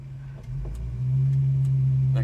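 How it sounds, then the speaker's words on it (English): Ignition coil buzzing in a running car on the road, a steady low hum with engine drone that rises and holds louder partway through, with faint ticks over the top. "Oh, that coil's making some noise."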